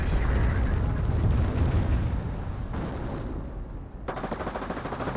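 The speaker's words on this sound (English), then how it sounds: "And now here comes another Calliope Barrage." A Calliope rocket barrage in a Company of Heroes match, with dense overlapping rocket impacts and explosions rumbling loudly, thinning briefly, then returning with rapid bursts of fire.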